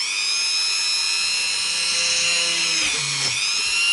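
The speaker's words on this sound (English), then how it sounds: "We'll go through the Dremel first." A Dremel rotary tool cuts into a guitar body, a steady high-pitched whine holding loud and close throughout, with a brief dip in pitch near the end as the bit bites into the wood.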